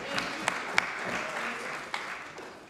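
Scattered, fairly soft applause from a small group in a parliamentary house sitting, with a few sharper individual claps standing out.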